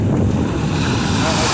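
Loud, continuous rush of surf and wind buffeting the microphone, close and broadband with no distinct breaks.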